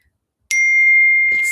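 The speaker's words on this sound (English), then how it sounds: "Sorry about the dinging." A device sounds a single bright electronic ding that rings on steadily, with a second softer chime starting near the end.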